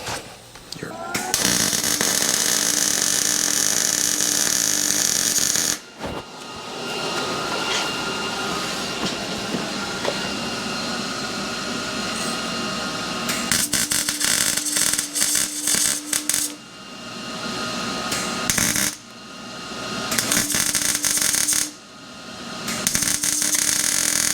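A mount is welded onto a Garelli SSXL moped: long loud bursts of close, harsh crackling buzz are separated by short pauses, with a few brief pulses toward the end.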